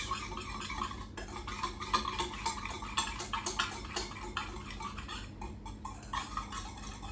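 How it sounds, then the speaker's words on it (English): Ground black pepper and ground cloves whisked together in a bowl, a steady run of light scraping and ticking strokes with a few sharper clinks, close and moderately quiet, with no voices. "Now we're going to whisk all that together, make it nice and homogeneous."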